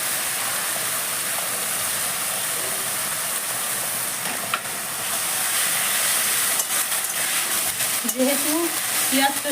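A paste of boiled onion, garlic, ginger and green chili fries in a pan for khichuri, a loud steady sizzle and hiss with stirring scrapes near the end.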